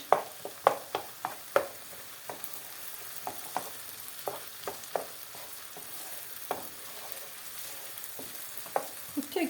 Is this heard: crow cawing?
no